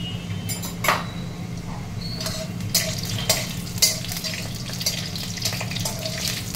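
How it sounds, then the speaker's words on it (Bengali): A bay leaf, cumin seeds and dried red chillies crackle in hot oil, a loud, steady sizzle close by with a few sharp pops and light taps against the pan. "একটা তেজপাতা দিয়ে দিলাম, জিরে ফোড়ন দেবো, জিরে ফোড়ন দিয়ে দিলাম"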